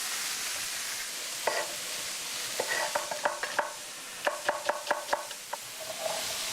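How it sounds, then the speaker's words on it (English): Red pepper and red onion sauté in a pan with a continuous loud sizzle, while a utensil scrapes and taps against the pan in quick rhythmic runs on top, close up and with no voices. "I'll sauté the red pepper and the red onion together"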